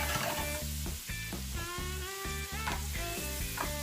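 Bacon and mushrooms sizzle in melted butter in a pan, a steady close crackle and hiss with a rhythmic clatter of stirring running throughout.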